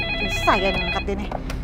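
A telephone rings indoors, a short ringing burst with steady bright tones over a low background hum, heard alone before a call is answered.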